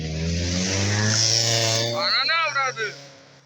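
A vehicle engine idles with a low, steady exhaust drone in an industrial area for about two seconds, then cuts out as someone speaks over fainter background noise.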